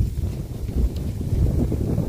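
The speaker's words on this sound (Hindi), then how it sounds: "बाहर हवा चल रही है" Wind blows steadily outdoors and buffets the microphone with a loud, continuous low rumble and roar, with no voices heard.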